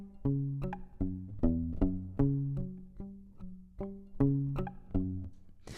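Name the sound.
pizzicato cello bass line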